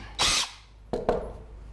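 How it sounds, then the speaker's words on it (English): A power drill driving screws into pallet wood while building a smokehouse, heard as one loud whirring burst followed by two shorter bursts close by, alone with no talk. "go ahead and put my screws in."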